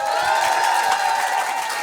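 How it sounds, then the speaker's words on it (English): Crowd cheering and whooping for a Belgian rock band at a Europe Day concert in Brussels, a sustained roar of voices with scattered claps, fairly loud and unbroken across the short stretch. "Give them a warm applause."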